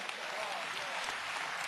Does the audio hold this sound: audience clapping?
yes